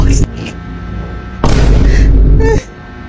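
A voice imitates machine gun fire with rapid rolling 'ratatata' bursts, loud and close, in two main outbursts separated by quieter talk.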